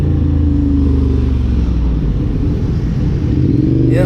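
Ducati Hypermotard being ridden through Bali traffic, its engine a loud, close, continuous low rumble that holds steady throughout.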